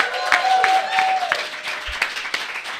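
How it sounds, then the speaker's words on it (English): A brief burst of live studio audience clapping and applause, moderately loud, fading over a few seconds with a faint voice mixed in. "Round of applause."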